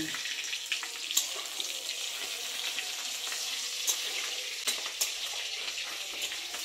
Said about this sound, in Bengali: আমি এখন মাছের ডিমটা ভাজছি বন্ধুরা